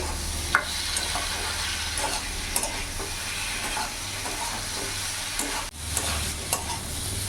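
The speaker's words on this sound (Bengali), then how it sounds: "ভালো করে মিশিয়ে নেবো এবার একসাথে" Green chili paste is stirred into vegetables for a mixed veg paneer dish in a frying pan: scraping, clinking spoon strokes over a steady close sizzle, with no speech.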